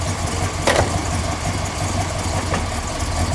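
A 1969 Plymouth Road Runner with a 440 V8 rumbles at low speed while reversing into a parking spot, a steady close idle-like drone with faint brief mechanical ticks.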